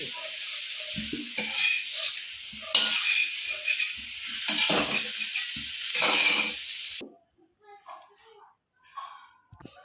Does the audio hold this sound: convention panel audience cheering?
no